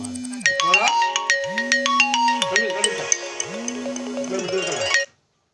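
A phone ringtone plays a repeating electronic melody with bright tones and a low swooping bass line, loud and close, stopping abruptly near the end.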